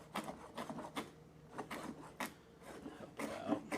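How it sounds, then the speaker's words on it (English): Dandelion roots chopped a few at a time with a knife on a board, giving a series of quiet, irregular chunky cuts and scrapes close by, with no talking. "Just chop a few up at a time here."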